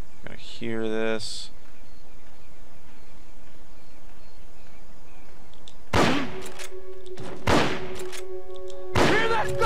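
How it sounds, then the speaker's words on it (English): Gunfire in a stealth action video game arrives as several sharp, loud bursts spaced a second or two apart in the second half, after a quieter stretch with a brief rising electronic tone. "Hear that? Gunshots!"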